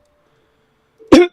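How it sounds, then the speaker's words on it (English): One loud, close cough bursts out after near silence, a single sharp hacking burst at the end. "with a nice loud cough"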